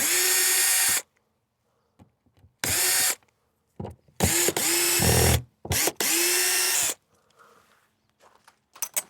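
Cordless power driver backing screws out of an RV fixture, several short loud whirring bursts with brief pauses and clicks between them, close up.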